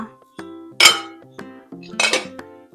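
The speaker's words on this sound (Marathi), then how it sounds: "आता आपण झाकण काढूया" A metal lid lifted off a cooking pot of sabudana khichdi, giving a short run of bright clinks and clatters, two louder ringing knocks, and quieter taps in between, all close up.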